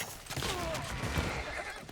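Horses whinny and hooves clop in the strategy game Civilization VI, a sustained high neigh riding over rapid mid-level clopping and battle ambience, fairly close and steady throughout.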